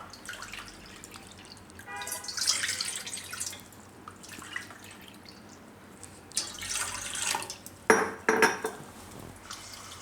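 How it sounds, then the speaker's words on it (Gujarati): Two cups of water splash and trickle into a metal pot for tulsi tea, with clinks of cookware in two bursts amid quiet kitchen background. "તો આમાં આપણે 2 કપ પાણી નાખીશું."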